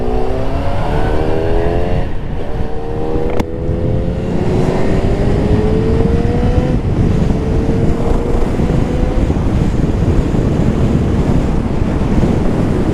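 A Yamaha FZ1N motorcycle accelerating on the road, engine note rising in steady climbing sweeps through the gears, heavily buffeted by loud wind roar across the microphone, with no talk.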